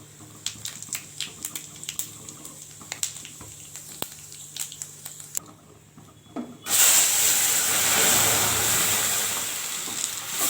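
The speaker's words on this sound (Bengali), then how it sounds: "ওই উনানে ডালটা ফুটছে" Dal lentils boil in a pot on a stove, giving scattered sharp bubbling pops and clicks, then a sudden loud, steady hiss of steam that lasts several seconds.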